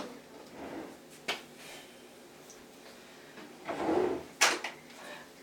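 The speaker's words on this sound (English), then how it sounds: "Julia, can you get the deodorant out of the drawer for me, please?" Bathroom drawer sliding open and shut while deodorant is fetched, with a couple of sharp knocks and a soft rumbling slide in a quiet room.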